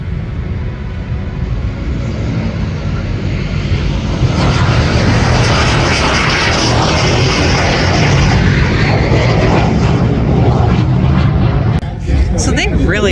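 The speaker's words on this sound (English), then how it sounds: "Not even 100 feet, ladies and gentlemen, an aircraft could come to a complete stop." A propeller aircraft landing and braking to a stop within a very short distance at a military air show in Alaska, a loud steady engine roar that swells midway and drops off near the end, with people talking over it.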